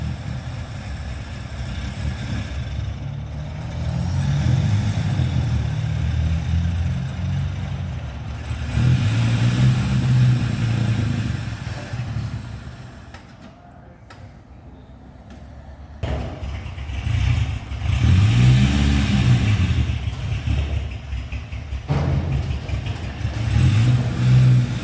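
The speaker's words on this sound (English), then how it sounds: "very, very cold engine." A cold, untuned engine in a 1938 Baby Austin runs close by, rumbling unevenly and rising into repeated revs before dropping back, with a brief dip near the middle.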